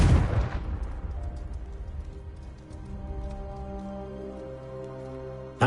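A Confringo blasting spell in Hogwarts Legacy goes off as a loud, sudden blast that rumbles away over a few seconds, leaving soft background music and a brief sharp hit at the end.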